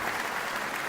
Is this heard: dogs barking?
no